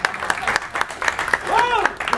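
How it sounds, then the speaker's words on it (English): Audience applause at a speedrunning marathon event, a scattered patter of clapping under a speaking voice, moderately loud and brief. "okay, you can clap"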